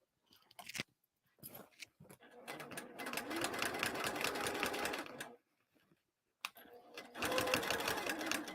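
A sewing machine stitches the exterior of a bag in several bursts separated by brief silences, whirring close and loud, with a long run in the middle and a final burst at the end.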